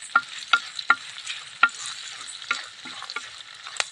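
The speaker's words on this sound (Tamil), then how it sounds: "வெங்காயம் நல்லா வணக்கிக்கலாம்." Onions sautéing in oil for rye upma sizzle softly and steadily, with a series of sharp spoon scrapes and stirring clicks against the pan, close by and with no talk.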